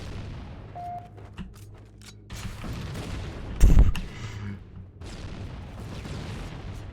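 Assault rifle gunfire in Halo: Combat Evolved, a run of shots with one loud burst near the middle amid game noise and explosions, no voices.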